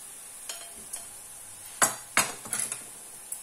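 Garlic and onion frying in oil for a sofrito for callos a la cordobesa: a soft sizzle lies under several crisp scrapes and clinks of a utensil stirring the pan, close by.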